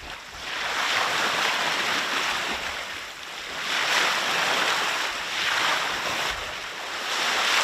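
Waves surge and splash against a sailboat out on rough, windy water, with broad rushing swells rising and falling in several loud pulses amid wind noise.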